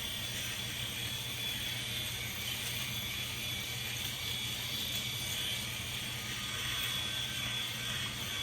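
Norelco 5675 electric shaver buzzing steadily as it cuts neck stubble, a close, continuous motor hum and whir with no pauses and no talking.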